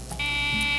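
A smoke detector test beep from a late-1980s TV fire safety commercial, a steady electronic buzzing tone held at moderate loudness with no talk.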